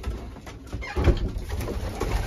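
Young racing pigeons coo in a loft with a dry dropping system, soft overlapping throaty coos close by with a gentle flutter of activity throughout.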